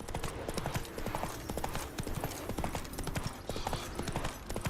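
Horse hooves clip-clop steadily in The Witcher 3: Blood and Wine, a brisk, even rhythm of hoof strikes sounding up close and continuing throughout.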